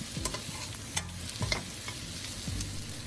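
Pork for binagoongan is stirred and sautéed in a pan, giving a close soft sizzle with several scraping strokes of the spoon at irregular intervals. No voices are heard.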